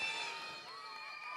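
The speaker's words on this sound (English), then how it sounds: "Just hear the crowd support for both the team, gentlemen." Crowd at a cricket match in the United Cricket Bash 2017 cheering and shouting as a steady wash of voices with some high, sustained tones, loud and continuous throughout.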